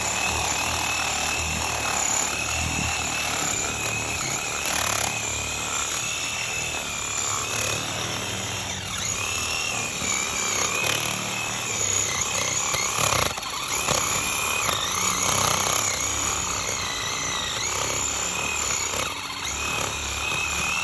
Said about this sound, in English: I'll take the sawzall and try and cut the roots surrounding the stump